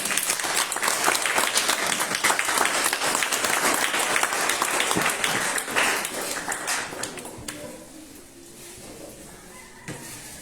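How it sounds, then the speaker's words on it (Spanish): A church congregation at an anniversary service applauds loudly and steadily, a dense wash of clapping that holds for several seconds and then thins and fades toward the end. "¿Puedes darle un fuerte aplauso a Él?"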